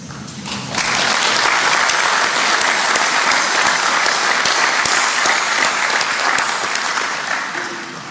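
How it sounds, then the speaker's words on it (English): Audience at a college graduation conferring ceremony breaks into loud, sustained applause, a dense wash of many hands clapping that swells quickly after a brief quieter start and holds steady. "so he will have heard your applause"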